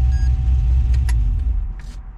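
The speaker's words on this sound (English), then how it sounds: "Fire up the car." An Audi car engine fires up and settles into a steady, loud low rumble, with a few faint clicks and a brief jingle of keys over the drone.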